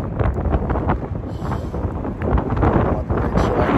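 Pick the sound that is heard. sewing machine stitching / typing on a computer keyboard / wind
wind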